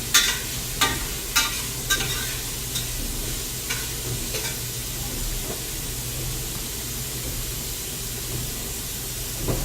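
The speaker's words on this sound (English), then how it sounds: "You do not have to constantly stir the onions, so sometimes you can let them just cook as they are." Chopped onions and celery cook in a pot for BBQ chili, giving a steady, close sizzle with a few sharp stirring clinks in the first seconds, then an even frying hiss.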